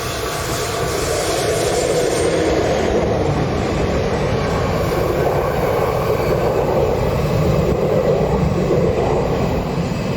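Loud, continuous rumble and clatter of a train rolling past on the track, close by, with steady wheel noise throughout and no voices, on the Gotthard railway's northern ramp in Switzerland.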